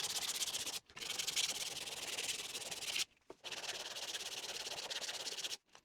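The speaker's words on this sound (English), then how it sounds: "I'll just sand a bit of radius into the edges" Sandpaper rubs back and forth across the edges of an end grain cutting board, rounding a radius in three long, steady, hissing passes separated by brief pauses.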